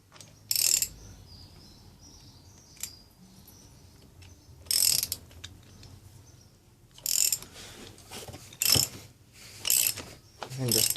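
Motorcycle chain riveting tool being tightened onto a chain, giving several short sharp metallic clicks and ratcheting bursts spaced irregularly, close and fairly loud over a quiet background.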